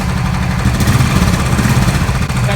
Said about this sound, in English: Thunderbird 500 actually growls. It's not a thump, it's more of a growl.